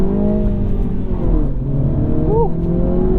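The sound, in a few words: 2022 Mini Cooper S engine accelerating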